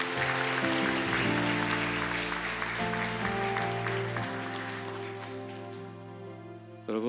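A church congregation breaks into applause at the close of a Sunday sermon, a bright crackle of clapping that fills the room over sustained keyboard or organ chords and then thins out.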